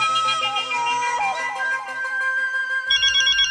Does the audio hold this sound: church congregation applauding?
no